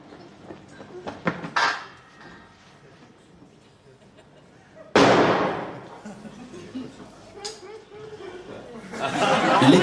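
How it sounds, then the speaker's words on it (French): A sudden loud blast bursts out midway, followed by rumbling debris and crowd chatter, with earlier sharp cracks and clatter. "L'explosion est réussie."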